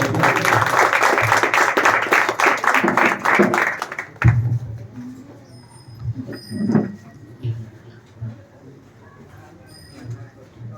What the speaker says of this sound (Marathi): टाळ्या वाजल्या पाहिजे